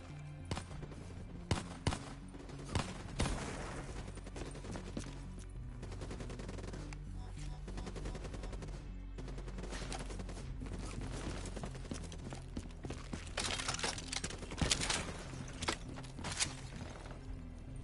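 Sustained gunfire in the shooter Black Ops 3 on its hardest difficulty, with dense overlapping bursts and rapid automatic fire across the whole stretch, loud and continuous amid a busy battle mix.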